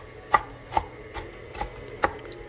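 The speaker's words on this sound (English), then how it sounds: "I'm just about done with my chopping." A knife chops pecans on a cutting board with about five crisp, distinct thuds at uneven intervals. The cuts are close and moderately loud over a quiet kitchen background with no talking.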